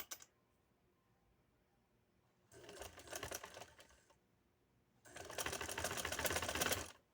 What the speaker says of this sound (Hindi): सिंगल सिलाई से मैं इस लेस को लगाने लगी हूँ।